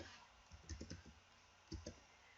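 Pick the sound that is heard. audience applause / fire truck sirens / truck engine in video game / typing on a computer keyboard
typing on a computer keyboard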